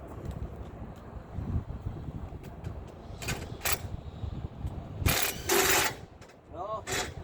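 Tightening down a straight truck hook-up with a ratcheting tool, bursts of mechanical clicking and cranking against outdoor wind noise, with louder ratchet strokes near the end.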